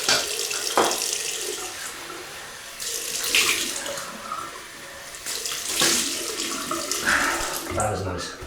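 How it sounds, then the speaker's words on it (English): A bathroom tap runs cold water for a rinse during a wet shave with a double-edge razor, a close, hissing splash that rises and falls as hands move through the stream, with a voice speaking briefly. "Okay, cold water rinse."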